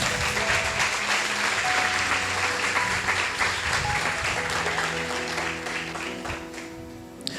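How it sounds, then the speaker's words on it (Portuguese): Church congregation applauding during a sermon, a dense, steady wash of clapping from many hands that holds loud and continuous throughout, easing slightly toward the end. "Aplauda o nome de Jesus."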